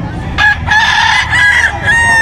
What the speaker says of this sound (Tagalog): Ang ganda ng manok ni Boss Aljun. Sambuanga white